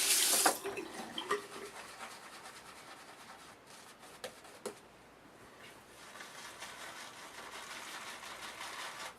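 A tap runs water at low volume to re-wet shaving soap, a soft continuous wash with a few small clatters and knocks early on, then a steady gentle stream to the end.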